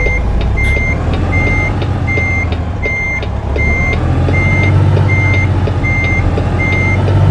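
A stretch truck reverses, its backup alarm repeating sharp, evenly spaced beeps about twice a second over a loud, constant engine rumble, close by and with no voices.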